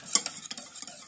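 An egg being whisked in a bowl while making a burger at home, giving a quick run of light, rhythmic clicking strokes, close and fairly soft, with no talking.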